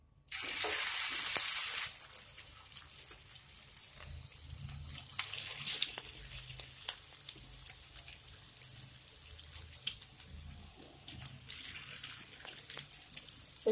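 Potato seekh kababs shallow-fry in oil in a pan, with a short louder sizzle at the start that settles into faint, scattered crackling.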